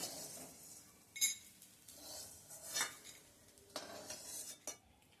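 Ghee-roasted edible gum is scooped from a pan into a bowl: a quiet series of spoon scrapes and light metallic clinks against the cookware, with a faint sizzle.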